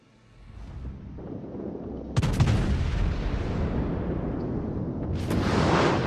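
Heavy gunfire from the French battleship Bretagne in a naval video game: a deep booming salvo breaks out suddenly and rumbles on, then a second sharp blast follows, loud and close, with no talk.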